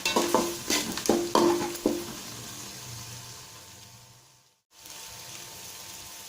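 Green chillies and ginger garlic paste are stirred and sautéed in a pan for chicken biryani, with a few scraping stir strokes over a steady soft sizzle that fades briefly near the end.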